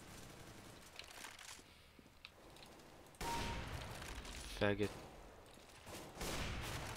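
Gunfire in the video game Counter-Strike: Global Offensive, bursts of shots and rapid fire loud in the latter half under a man's speech and game sounds.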